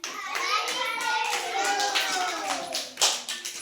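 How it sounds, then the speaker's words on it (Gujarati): A group of young children at an anganwadi preschool clap their hands in quick, uneven bursts, mixed with their high voices chanting and calling out nearby. "તાળી પાડો"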